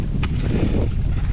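Strong wind buffets the microphone aboard a fishing boat on Cayuga Lake, a loud, rumbling low roar that stays constant throughout.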